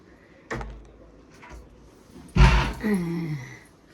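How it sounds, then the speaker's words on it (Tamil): A door being shut indoors in a home: a soft knock early on, then a heavy, close thud of the door closing, followed by a brief creaking or breathy tone. "நான் கதவை சாத்திக்கிறேன்."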